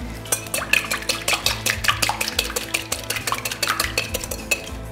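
Two chicken eggs are whisked in a bowl, a fast continuous run of metallic clinks and taps against the bowl, close and steady with no talking.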